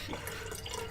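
Water splashes and drips steadily onto a computer keyboard, a short close, busy trickle with no voices.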